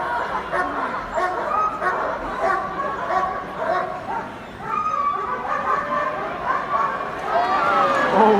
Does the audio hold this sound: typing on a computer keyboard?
no